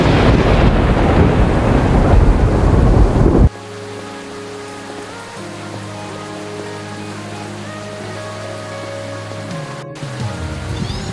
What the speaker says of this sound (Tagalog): Hala, patay, umuulan na.